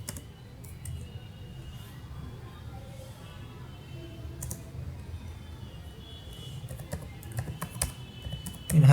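Fast, continuous typing on a computer keyboard during a Java programming lesson, the light key clicks sounding close and steady over a low background hum, with no speech.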